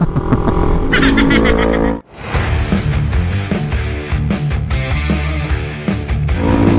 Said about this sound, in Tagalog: Nice Ninja 400. Sarap ng tunog.